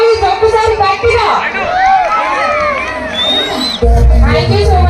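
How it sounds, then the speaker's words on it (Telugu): A crowd cheers and shouts with a steady roar of voices at the inauguration of the Wonderla amusement park in Kadapa, with high whoops rising over the babble and a louder swell near the end. "ఒకసారి అందరూ గట్టిగా క్లాప్స్, మేక్ సమ్ నాయిస్ ఒకసారి గట్టిగా"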